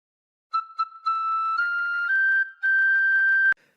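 A tin whistle plays a phrase of the Star Spangled Banner as a run of clean, steady notes stepping gradually higher, alone and up close, cut off sharply at the end.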